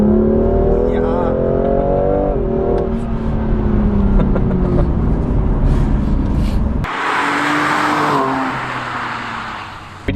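A BMW M2 Competition with a RaceChip GTS Black tune at max setting revs loudly, its engine tone climbing and falling steadily before a sudden shift to a harsher roar, with speech partly over it.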